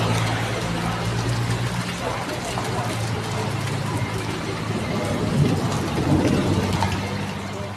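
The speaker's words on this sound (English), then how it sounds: "The heaviest rainfall lasted for approximately half an hour before gradually subsiding." Heavy storm rain in Turkey pours as a loud, dense steady wash, with traffic rumbling underneath and a voice speaking over it.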